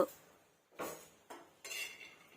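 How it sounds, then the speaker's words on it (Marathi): Peanuts are dry-roasted on medium heat and stirred in a pan, with four separate rattling, scraping strokes of a spoon through the nuts, each a short burst followed by a near-silent pause, quiet and without talk. "असे शेंगदाणे आपल्याला भाजून घ्यायचे आहे आणि शेंगदाणे चाळतच राहायचे आहेत"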